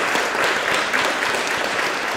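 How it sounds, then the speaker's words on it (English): Steady audience applause at a community event, dense and continuous throughout, with no talk over it. "So give them a big round of applause."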